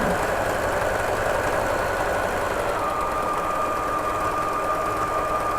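A sewing machine runs continuously and slowly around the edge of a baby doll made from knit fabric scraps, a loud, steady motor hum with a dense mechanical buzz and no pauses.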